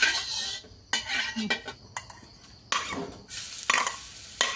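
Squid stir-fried with holy basil in a pan, with loud close clatter and scraping of a metal utensil against the pan in busy bursts over a hissing sizzle, broken by brief quieter gaps.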